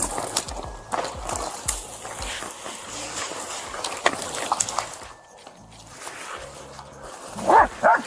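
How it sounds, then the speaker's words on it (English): A police K9 dog barks and whimpers in scattered bursts during an outdoor suspect search, with rustling movement and a sharp burst near the end. "my dog will find you, we'll bite you"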